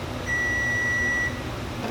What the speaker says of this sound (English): You can hear in the background our timer going off.